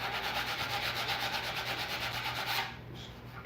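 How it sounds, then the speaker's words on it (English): An orbital sander works over old wooden table leaves, a close, steady buzzing rasp with a quick pulsing rhythm that drops away near the end. "I'll probably just use the orbital sander on that again."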